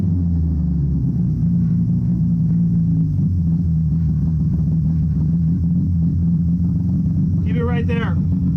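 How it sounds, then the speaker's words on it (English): A street-driven race car engine idles steadily after its idle air screw is backed out, a low continuous rumble that holds even throughout, with a brief voice breaking in near the end. "see if we can get the car to idle by unscrewing the idle air screw out"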